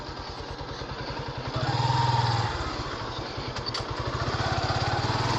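Motorcycle engine running at Jhenaidah Eco Park, a steady close throb of rapid low pulses that swells briefly louder midway before settling back to an even idle-like beat, with no talk.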